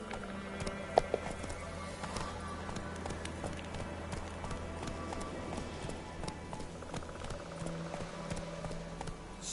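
A horse gallops in The Witcher 3, with a steady rapid drumming of hooves running throughout over a constant game ambience, a couple of sharper knocks near the start.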